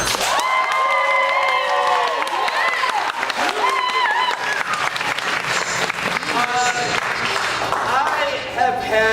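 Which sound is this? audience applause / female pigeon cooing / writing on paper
audience applause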